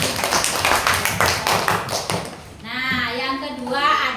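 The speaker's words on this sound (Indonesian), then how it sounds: "Tepuk tangan." Classroom clapping at a teacher's practice lesson, a burst of children's hand claps in quick irregular rhythm for about two and a half seconds, fairly loud, then fading into children's voices.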